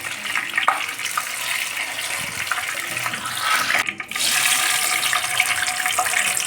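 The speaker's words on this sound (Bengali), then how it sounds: "লবণ হলুদ দিয়ে মেখে রাখা পনিরগুলোকে এখন ভেজে নিচ্ছি।" Paneer pieces coated with salt and turmeric fry in hot oil with a loud, continuous sizzle that dips briefly midway and then swells back to full strength.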